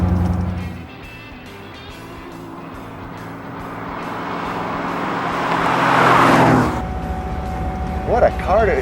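A hot rod with an automatic transmission cruises on a road, its low engine rumble steady, then swelling as it accelerates before dropping back, with brief voices near the end.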